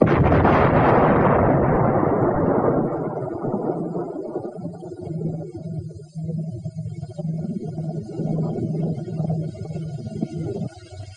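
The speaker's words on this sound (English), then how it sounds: "Here are the 2 whoppers the howitzer pounds out." A howitzer firing a high-explosive shell, one heavy blast that booms and slowly decays into a long rumbling tail, with a low murmur of background noise continuing afterward.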